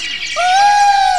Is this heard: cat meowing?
no